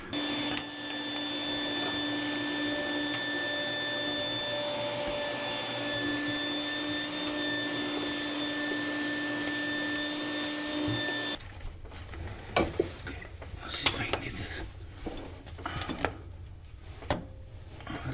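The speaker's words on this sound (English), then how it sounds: "So I'm going to vacuum that up real quick." A vacuum cleaner in a workshop drones steadily with a whining motor hum, sucking up debris, then cuts off, leaving clattery handling noises and knocks.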